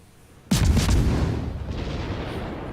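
A sudden booming naval shell blast in the World of Warships game, a single sharp hit followed by a long rumbling decay, close and loud.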